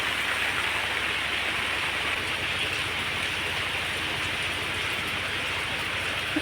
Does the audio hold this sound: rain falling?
yes